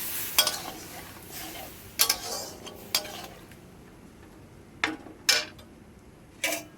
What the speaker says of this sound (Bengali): অল্প জল দিয়ে দেব। ভালোভাবে নেড়ে নেব।